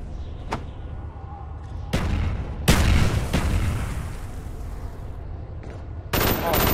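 Grenade blast in a first-person shooter search-and-destroy match, among several sharp gunshot cracks and one heavy explosion burst midway, followed by echoing rumble and further shots, close and loud.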